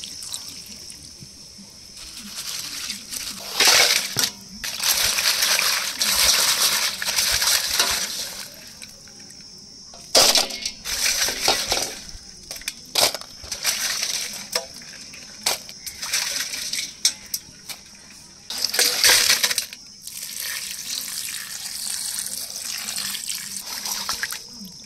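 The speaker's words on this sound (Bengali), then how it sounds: "কাঁকড়াগুলো জল দিয়ে 2-3 বার ধুয়ে নেব।" Raw crabs being rinsed two or three times in water for a traditional Bengali crushed-crab dish, with bursts of splashing and rattling shells at a nearby sink between quieter gaps, no voices.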